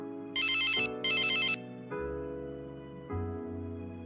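A telephone ringtone sounding for an incoming call, two quick high trilling bursts followed by steady sustained electronic tones changing pitch, clear and close.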